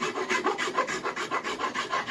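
A four-in-hand rasp's finer side rubs back and forth over a wooden axe handle, making rapid, even rasping strokes of about five per second, close and moderately soft with no talk.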